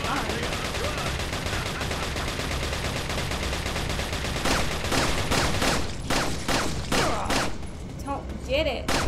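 Rapid gunshots from Resident Evil 4 on PS5, the second half packed with sharp, loud bursts over steady game ambience, while a player's voice talks at times underneath.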